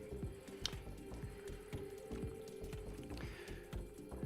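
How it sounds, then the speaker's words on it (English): Wet clay spinning on a pottery wheel with water on top, making repeated soft squishing, slapping contacts over a steady motor hum, close and fairly quiet, with no voices. "A little bit of water on the top here."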